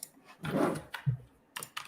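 A backup computer keyboard clicks under hurried typing, a few close key presses and a brief cluster of clatter set apart by short quiet gaps.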